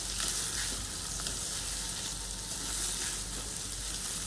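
Pav bhaji ingredients fry in a pan until golden brown, a steady dense sizzle with faint stirring, continuous and close throughout with no voices.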